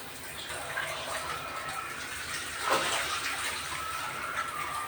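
Water from a home jacuzzi shower runs in a steady hiss and splash at moderate level, with one brief louder gush partway through.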